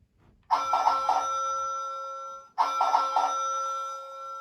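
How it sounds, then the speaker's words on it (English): Bell on a 1/12 scale Routemaster bus model, rung by pulling a cord, sounds two clear electric rings, each a sustained bright ding of about two seconds, close and loud with no talk. "we're going to test this bell when we pull this cord."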